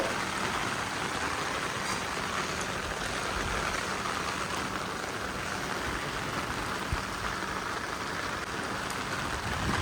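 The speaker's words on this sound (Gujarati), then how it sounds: "મજાનો વરસાદ આવી રહ્યો છે વરસાદ ચાલુ છે" Steady rain pours down during an all-night monsoon downpour, a dense continuous patter on surfaces that stays even and close for the whole stretch, with no talking.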